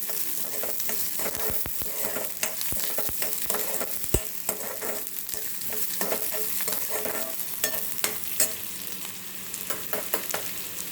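Onion sautéing in a pan for a smoky brinjal bharit, a steady close sizzle and fry with repeated scraping and stirring clicks of a spatula throughout, no voices.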